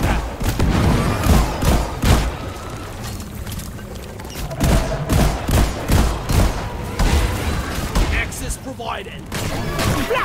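Repeated weapon fire from a plasma buster in the Deep Rock Galactic video game, a series of sharp bursts with heavy low thumps and constant combat noise, mixed with other game effects.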